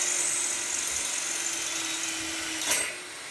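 A 20-volt KOVA cordless drill whines steadily with a high, continuous buzz, then gives a short louder burst near the end as it bites through material.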